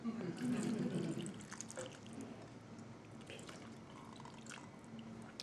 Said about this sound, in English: Then I want to put a cup of water in there